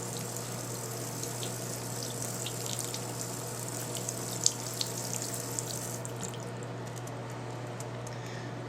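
Tap water runs steadily over a Rolex Explorer II watch bezel during rinsing, a continuous close splashing hiss over a low hum with a few small clicks and no pauses.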